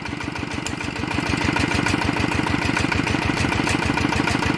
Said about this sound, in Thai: ก็ตัวนี้นะครับ อัพเป็น RT 90 นะครับ ก็ฟังเสียงก็โอเคเงียบนะครับนิ่มดีนะครับ